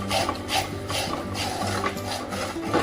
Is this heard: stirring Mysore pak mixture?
yes